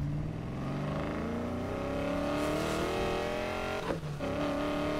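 A Nissan Fairlady in Need for Speed Payback drives along with a steady engine drone that rises in pitch as it accelerates, then drops briefly during a quick gear change before climbing again.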